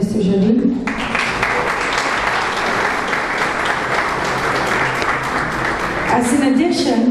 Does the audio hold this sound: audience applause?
yes